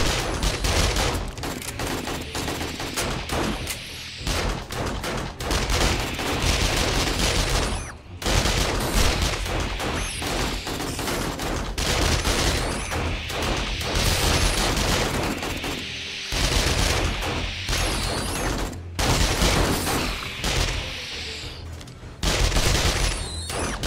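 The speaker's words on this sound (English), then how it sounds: "I'm just gonna shoot down a bit" Sustained gunfire aimed down at zombies during a 7 Days to Die horde night: long, dense volleys of rapid shots, loud and continuous with only brief pauses.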